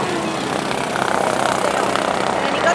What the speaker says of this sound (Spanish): ¡Hola, un helicóptero!